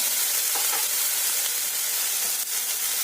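Poppy seed and mustard paste fries in a pan with a steady, close sizzle and hiss that stays even throughout, with a few faint stirring touches and no talking.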